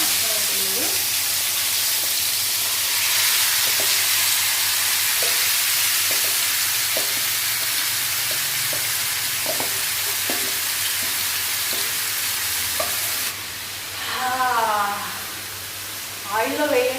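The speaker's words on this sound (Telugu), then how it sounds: "ఇప్పుడు మ్యారినేట్ చేసిన చికెన్ని ఇందులో వేసేద్దాం." Marinated chicken sizzles and fries in hot oil in a home kitchen, with steady loud frying hiss, repeated scrapes and taps of stirring, and a brief rise in the sizzle near the end.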